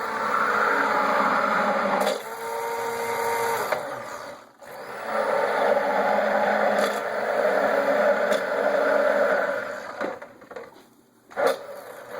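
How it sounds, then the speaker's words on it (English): Immersion blender whirring through melted melt-and-pour soap base, a steady buzzing drone in several long bursts with brief pauses and scraping between them, close and fairly loud. "we're going to mix this with the immersion blender"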